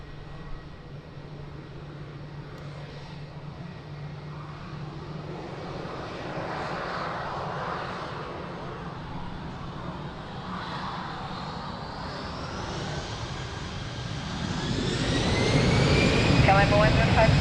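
A jet taking off from runway 02 at Lisbon Airport starts as a distant rumble under radio chatter, then builds into a loud, rising roar toward the end.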